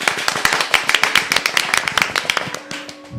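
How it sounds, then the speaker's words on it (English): A small group claps for a guest in a morning show studio, with a handful of sharp, distinct claps in a loose rhythm, close and loud, before they trail off near the end. "let's give her a round of applause one more again."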